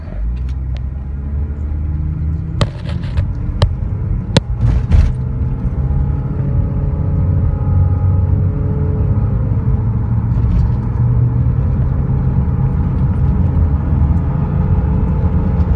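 Toyota RAV4 running on Prins LPG pulling away on a hill start, loud steady engine rumble building under acceleration, with a few sharp clicks early on and no talking.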